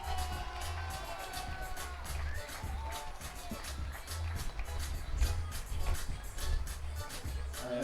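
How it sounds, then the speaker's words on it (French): A crowd in the stands at a women's padel final at FIP Star Beau Plan applauds the finalists, a steady patter of clapping with low rumble beneath, fairly distant and even throughout. "Allez, on applaudit très fort aussi les finalistes, Carla Touli et Ana Dominguez"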